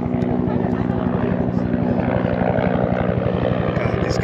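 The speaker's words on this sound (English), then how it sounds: "Goddamn helicopters, bro." A helicopter thuds overhead at a cherry blossom festival with a fast, steady rotor beat, loud and close, its chopping rhythm continuous from start to finish.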